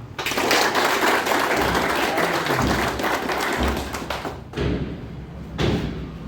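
Clapping welcomes an Assam Rifles ex-servicemen team at a veterans' gathering in Pithoragarh, loud and dense, with heavy thumps and booming low-end bumps running through it, easing briefly before swelling again.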